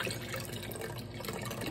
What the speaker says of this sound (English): Okay, now we're gonna pour this into here.